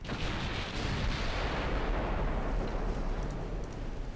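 Naval gunfire from 2-inch guns in a naval warfare video game forms a dense, continuous roar of booming shots that blend into a loud, heavy rumble with no voices.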